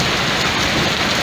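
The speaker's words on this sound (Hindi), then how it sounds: "ठंडी में बारिश और मज़ेदार चीज़, और सुबह ही शुरू हुई है" Steady rain pours on a cold morning during a thunderstorm, a dense, loud, unbroken hiss of drops hitting surfaces nearby.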